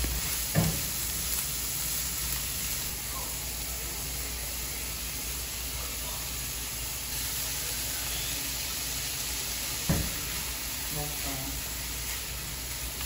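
Filipino spring roll filling sautés in a pan with a steady, even sizzle throughout, broken by a couple of sharp knocks from a stirring utensil.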